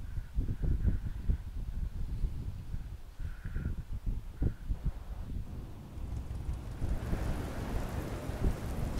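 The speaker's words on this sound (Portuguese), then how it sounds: "Vocês estão vendo que tá chovendo, né?" Rain and rolling thunder in the racing game DRIVECLUB, with a steady downpour hiss under repeated low rumbling thunder bursts over nine seconds and no voices.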